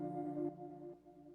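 A soft sustained synth chord rings briefly, then fades out gently, its tones lingering quietly after the notes are let go.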